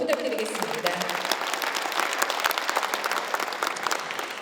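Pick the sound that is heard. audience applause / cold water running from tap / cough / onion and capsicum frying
audience applause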